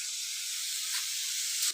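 Mutton pieces, including the goat's head, dropped into a hot spice mixture, giving a steady bright sizzle and hiss that stays even, with a slight surge near the end.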